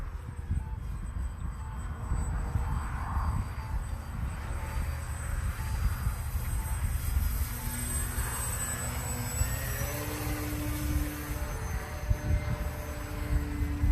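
A Mamba10 model airplane flies on a windy day, its thin whining motor changing pitch above a steady rumble of wind buffeting the microphone.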